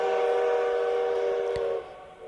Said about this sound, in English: The Polar Express let out a loud blast from its whistle and sped away.